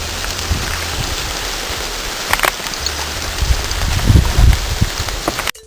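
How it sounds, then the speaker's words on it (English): Rime ice showers down the Northwest Couloir of the South Teton, a continuous glassy hiss and patter of falling fragments with a few sharper clinks and low thumps nearby, ending abruptly. "the Northwest Couloir, which rained down with rime, which sounded like glass"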